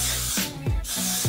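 Got2b hair spray hissing from an aerosol can in two bursts with a short gap between them, close and fairly loud, finishing off styled baby hair.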